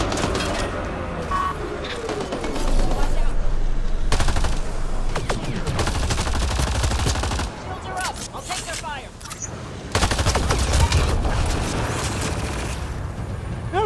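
Heavy automatic gunfire in Mass Effect Andromeda, with loud sustained bursts across most of the clip that break off in short pauses and then start again. A few voices talk over parts of the shooting.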